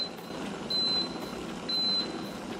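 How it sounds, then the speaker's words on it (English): An electric teapot sounds two steady high beeps about a second apart as its automatic safety shut-off kicks in after boiling, over a low background hum. "There, you hear those beeps,"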